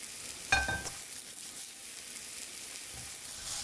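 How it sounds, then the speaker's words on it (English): Mushrooms sautéing in butter in a pan for coq au vin, a soft, quiet sizzle with a sharp utensil clink near the start and a faint crackle continuing, no voices. "So we keep the stew on low heat and we saute our mushroom."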